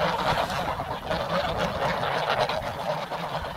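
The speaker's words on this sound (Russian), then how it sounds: "Гуси наши, гуси, гуси, гуси." Geese on a vegetable plot honk steadily in a dense, continuous flock chorus, fairly close and loud throughout with no clear gaps.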